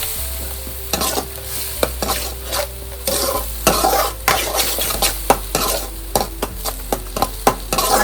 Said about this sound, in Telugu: 1 టేబుల్ స్పూన్ కారం, టేబుల్ స్పూన్ ఉప్పు, ఒకసారి మొత్తం మిక్స్ చేసుకోవాలి.